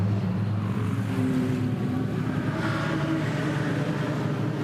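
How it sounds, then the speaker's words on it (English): The number 91 race car at the Bathurst 12 Hour heads back out with a deep, steady engine rumble that stays low and even throughout, heard from some distance against a wide background wash. "That angry rumble you're hearing in the background is the number 91 marked car that is going back out"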